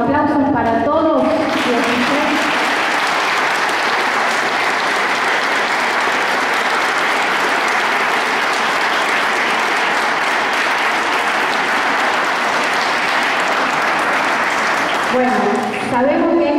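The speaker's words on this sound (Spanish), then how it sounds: "Renovamos los aplausos para todos." Audience at a ceremony honouring longtime townspeople of Sunchales breaks into sustained, loud applause that fills the room, with a voice speaking briefly at the start and end.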